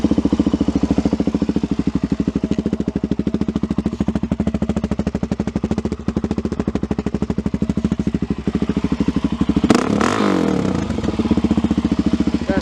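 A 2001 Suzuki DRZ 400S single-cylinder motorcycle engine idling with a rapid, even thumping pulse close by, then a sharp rev near the end before settling back to the steady beat.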